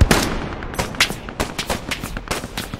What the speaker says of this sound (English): they got artillery right in our OP